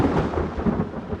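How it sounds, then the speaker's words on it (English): Thunder from a fire-generated thunderstorm rolls in a loud, close, continuous rumble with a faint rain-like hiss beneath it. "But fire also generates a far more common phenomenon: thunderstorms."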